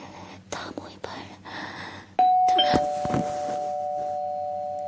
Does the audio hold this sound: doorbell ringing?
yes